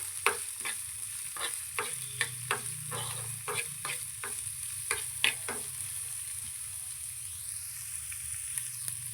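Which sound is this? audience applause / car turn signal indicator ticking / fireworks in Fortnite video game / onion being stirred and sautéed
onion being stirred and sautéed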